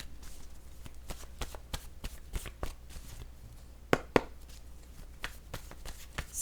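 Word cards for a card reading are shuffled by hand, making soft, quiet flicks and riffles with a few sharper taps, close by in an otherwise hushed room.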